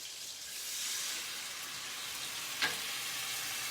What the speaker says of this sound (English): and now the brandy